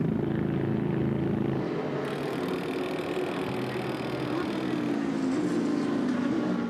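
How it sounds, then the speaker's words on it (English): Audi R8 LMS GT race car with a V10 engine suffering a failure during the Michelin 12 Hours at Paul Ricard. A steady, loud, broadband engine roar and mechanical drone continues throughout without a break. "a massive engine failure. The V10 of the Audi R8 LMS has exploded"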